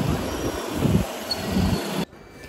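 Steady rumbling train noise with rattling and a faint high squeal, continuous until it cuts out abruptly near the end.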